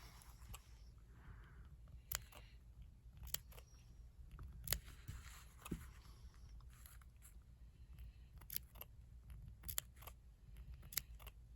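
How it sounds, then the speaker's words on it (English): Scissors snip through quilt fabric around appliqué stitching, a series of sharp, close clicks and cuts spaced irregularly over a quiet low room hum. "We're going to snip all around."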